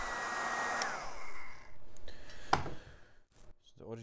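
A heat gun blows a steady whooshing hiss onto the edge of an aluminium café racer engine casing, then cuts out, leaving a sharp click and quieter handling noises.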